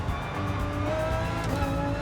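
Tires squeal steadily as the brakes lock up hard in a racing video game, a sustained whining screech over the car's engine drone that lasts the whole moment without a break.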